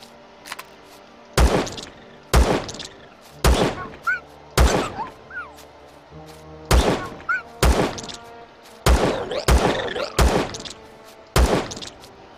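Heavy gunshots in Empyrion - Galactic Survival ring out in a steady series of about ten sharp, loud blasts spaced roughly a second apart, each with a short boomy tail.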